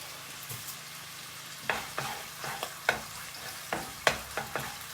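Sausage and pasta cooking together in a pan while being stirred: a soft, steady sizzle runs underneath, broken by a series of close, rhythmic scraping and clacking strokes from the utensil against the pan.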